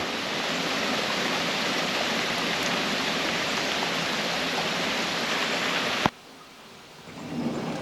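Steady heavy rain pours as a dense, constant hiss, cutting off abruptly near the end to a quieter background.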